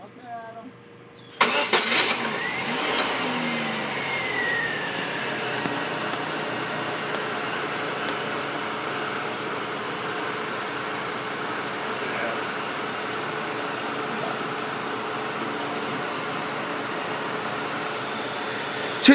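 A 2002 Pontiac Sunfire with a 2.2 liter engine cranks and catches after a moment of quiet, then settles into a steady, even idle that continues close and loud to the end.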